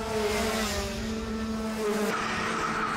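Race cars scream past on a circuit with a banked curve, their engines holding steady high tones that then drop abruptly as one pulls away, loud and close throughout with no talk.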